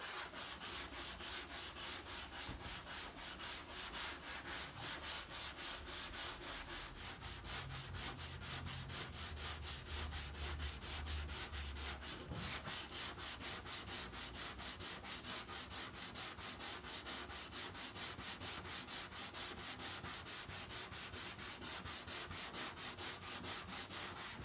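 A sanding block scrapes over body filler and glazing putty in a crisscross X pattern, giving steady rhythmic rasping strokes close up, continuous and alone without voices.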